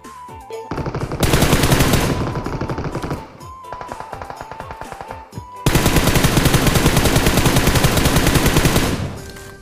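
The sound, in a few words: gunfire in video game PUBG Mobile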